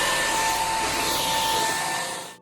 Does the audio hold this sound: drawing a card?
no